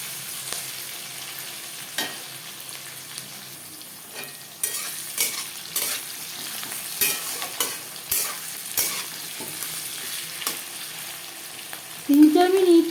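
Onion and tomato frying together in oil for chicken biryani, a continuous sizzle broken by repeated spatula scrapes and stirring knocks against the pan, with a brief louder burst at the end.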